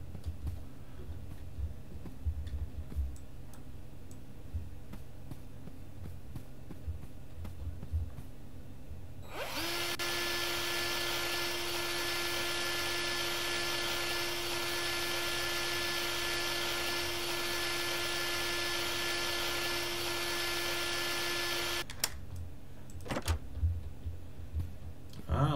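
A heist drill whirs steadily in the video game One Armed Robber, starting abruptly and running loud and unbroken for about twelve seconds before cutting off, with a steady hum beneath and faint background noise around it.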